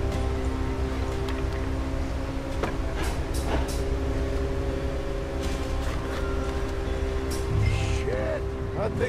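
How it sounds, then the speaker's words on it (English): A train approaches in Red Dead Redemption 2, a steady low rumble with sustained tonal hums running through the whole stretch, heard with game ambience and occasional sounds on top. "Train!"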